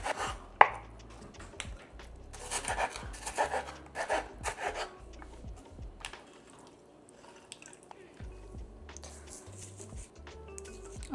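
Cabbage being chopped on a cutting board with a knife, a run of close, uneven cuts spread across the clip, with soft rubbing and handling noises between them and a little background speech.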